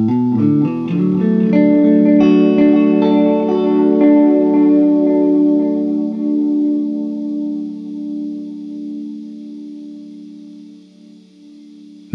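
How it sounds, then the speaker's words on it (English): A riff played through an analog Space Echo tape echo unit, its notes smearing into repeating, decaying echoes that build into a dense, sustained wash and slowly fade over about twelve seconds. "I recorded this riff several times in a row through the space echo."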